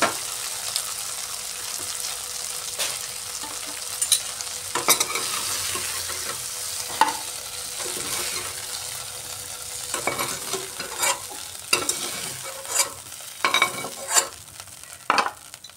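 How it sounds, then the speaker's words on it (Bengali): Okra (bhindi) frying in a pan and stirred gently, a continuous close sizzle with repeated scraping strokes and occasional clatter from the utensil, no one speaking. "ভেন্ডিগুলোকে আবার হালকাভাবে একবার নাড়িয়ে দিচ্ছি।"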